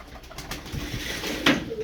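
Ala tumbler pigeons coo softly at close range, with low murmuring calls and one brief louder note near the end.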